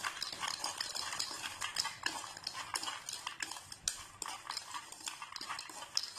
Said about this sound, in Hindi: अब इन तीनों चीजों को हमें अच्छे से मिक्स कर देना है।